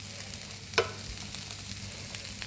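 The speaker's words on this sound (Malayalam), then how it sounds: "ഈ നേരം കിടന്നൊന്ന് മൊരിയട്ടെ എണ്ണയ്ക്കകത്ത്" Green beans frying in oil for payar mezhukkupuratti, a steady quiet sizzle with one brief stirring clink, no voices.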